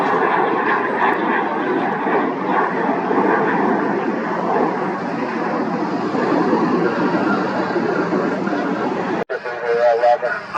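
A Gulfstream business jet at Washington Dulles roars steadily, loud broadband engine noise that holds for nearly the whole stretch before cutting off abruptly near the end.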